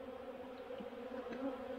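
Honeybees swarm a hive during a robbing frenzy, a faint, steady, continuous drone of many wings with no pauses.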